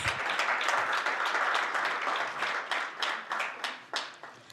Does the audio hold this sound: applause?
yes